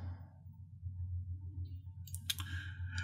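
A computer mouse clicks while working in Toon Boom Animate animation software, with a few sharp clicks in the latter half over a low steady hum.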